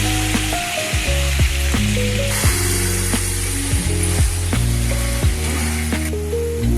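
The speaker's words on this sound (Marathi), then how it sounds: "बारीक चिरलेली वांगी कढईमध्ये टाकून घ्यायची" Finely chopped brinjal hits hot oil in a kadhai with ginger-garlic paste and chili flakes, giving a loud, continuous sizzle with music playing over it.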